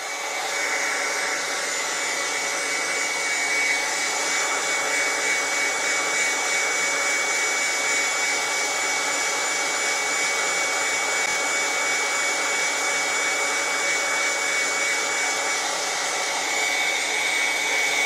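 A hot air gun blows steadily to heat and remove a micro stepper driver IC from a circuit board, a loud, even rushing hiss that holds without a break and has a faint tonal whine.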